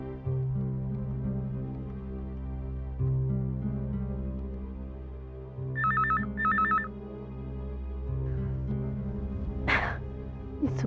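A telephone rings in two brief electronic trills over a low, sustained musical drone, followed by a faint clatter near the end.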